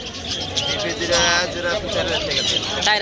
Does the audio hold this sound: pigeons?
yes